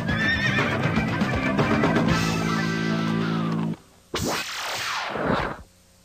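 A horse neighs loudly and at length, a shrill wavering whinny up close, followed by a second rising and falling whinny after a brief pause.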